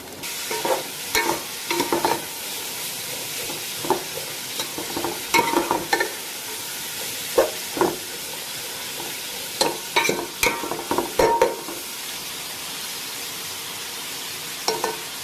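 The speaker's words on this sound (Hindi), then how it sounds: "तो ये गाजर और हम जो है ना गोभी को डाल देते हैं पहले" Carrots and cabbage stir-fried in a pan, a continuous close sizzle broken by irregular scraping strokes and light clanks of a spatula against the metal.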